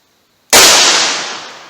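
A single loud gunshot from a Winchester PDX1 Defender .38 Special fired from a 4-inch barrel, a sharp crack after brief silence that decays slowly over more than a second.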